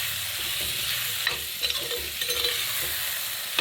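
Lemon pieces with chillies and curry leaves sauté in a pan, a steady close sizzle with soft spatula stirring strokes scattered through it.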